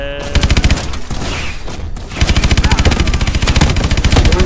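Swarm missiles launching in rapid succession in Call of Duty: Advanced Warfare, a loud pulsing volley of rhythmic thumps and blasts, pausing briefly before resuming, with a faint voice mixed in.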